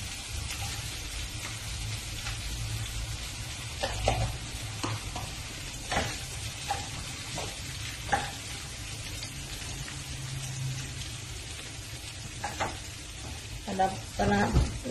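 Luncheon meat is stir-fried in a pan for glutinous rice, giving a continuous sizzle broken by scattered clacks and scrapes of a spatula, louder at the end.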